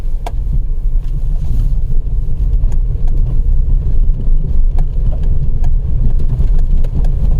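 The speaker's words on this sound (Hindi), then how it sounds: "गाड़ी मैनुअल गियर में डाल दी और चढ़ाते हैं।" A Maruti Celerio in manual gear climbs a rough jungle track at night, its mid-pitched engine droning steadily and close with faint knocks and rattles over the rumble, no voices.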